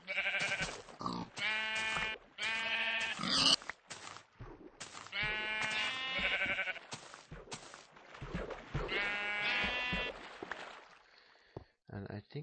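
Sheep bleating in a video game, many loud, repeated wavering bleats overlapping in quick succession, with a few sharp thuds mixed in.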